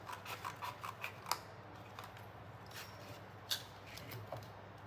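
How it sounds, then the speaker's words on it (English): Scissors snip paper for a paper mockup, a few short faint cuts with rustling handling noise in a quiet room, no talk. "So you see I'm going to cut this part, but here I'm going to cut somewhere."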